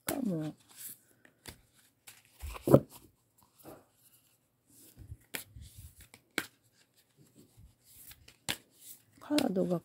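Oracle cards shuffled by hand in short bursts of crisp shuffling and tapping, scattered and close, with a voice talking softly between them.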